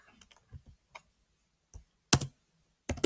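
Python code being typed on a computer keyboard: a few sparse, separate key clicks, then two louder clacks near the end, close and with no voices.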